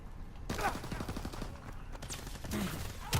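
A PPSh submachine gun fires in Call of Duty WW2, a rapid burst of shots with more scattered gunfire and brief voices in the game's battle noise.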